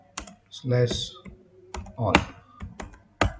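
Computer keyboard typing a networking command at a command prompt: a handful of sharp, close key clicks scattered irregularly under a man's speech.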